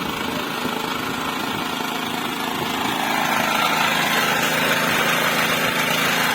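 A lorry engine runs at a steady idle, close by, with a continuous rumble that swells slightly louder partway through. No one speaks.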